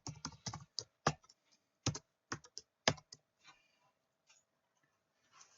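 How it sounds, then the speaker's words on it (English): Keys clatter on a computer keyboard in quick uneven bursts of close, crisp taps, separated by short pauses. "Think about what I'm going to type."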